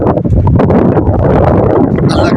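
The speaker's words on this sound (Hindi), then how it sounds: "तेज़ तेज़ हवा चल रही है, ठंडी ठंडी।" Strong cold wind in Naran buffeting the microphone, a loud, steady roaring rush with gusty swells, while someone speaks faintly underneath.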